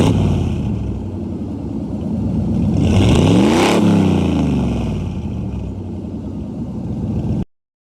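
A simulated truck engine revs up to a peak and falls back in BeamNG Drive, steady mid-pitched growl throughout with a rising and falling sweep around the middle, loud and close with no voices.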